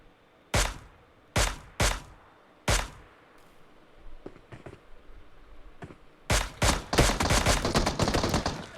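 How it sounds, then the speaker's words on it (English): Rifle shots from a Mini 14 in a multiplayer shooter match ring out as four sharp, loud single cracks spaced about a second apart, then a rapid burst of heavier overlapping gunfire toward the end. "Neo with those mini 14 shots at ORB Black and Fade"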